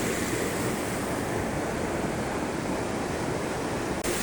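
River water rushes beneath a small footbridge in the Philippines, a loud, dense and unbroken roar that continues evenly, with a brief dip just before the end.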